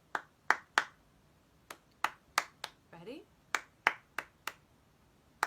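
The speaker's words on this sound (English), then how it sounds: "And there's a clapping piece." Sharp hand claps in an irregular rhythmic pattern for a church song, crisp and close in a quiet room, with short gaps between groups and a brief spoken cue partway through.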